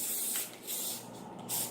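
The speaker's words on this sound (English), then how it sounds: "I'm going to spray it." Spray glue hisses from an aerosol can onto a Christmas craft bird over cardboard, in close, steady bursts with brief pauses between them.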